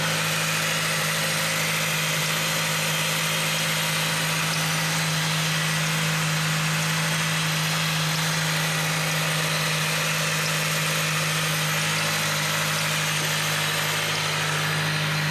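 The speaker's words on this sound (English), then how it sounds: "All right, so we got the car running." Car engine idling steadily right after its headers were freshly wrapped, a constant close low hum with a smooth, unchanging drone throughout and no speech.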